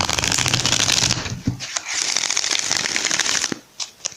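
Rapid riffling shuffles of a tarot card deck, two bursts of dense papery fluttering separated by a soft tap, with a few light clicks at the end.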